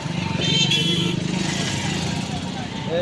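A motorcycle rumbles close by on a busy street while someone talks over it. Other traffic and a brief horn toot sound in the background.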